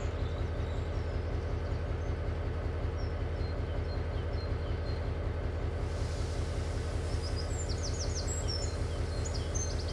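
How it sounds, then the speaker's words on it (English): A simulated train in Trainz 2022 eases forward slowly from a red signal, its low rhythmic engine throb steady throughout, with faint chirping birds joining in the background partway through. "start your train forward again"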